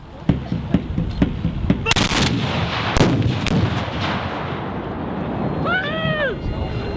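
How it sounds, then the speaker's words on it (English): Battalion volleys of musket fire at a Civil War battle reenactment, a ragged series of sharp cracks building to dense overlapping blasts, loud and outdoors, with a shouted voice near the end. "So it is firing by battalion."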